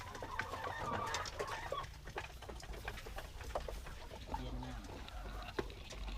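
Chickens cluck and scratch inside a chicken coop, with scattered soft clucks and pecking taps over a low steady hum, fairly faint and close, with a voice talking at times.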